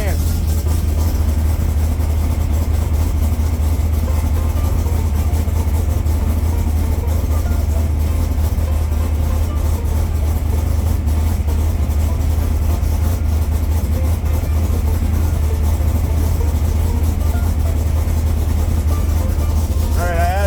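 A car engine fitted with Holley Sniper fuel injection idles steadily with a deep, continuous rumble for the whole stretch, loud and close, with no break in the drone.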